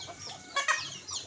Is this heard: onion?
no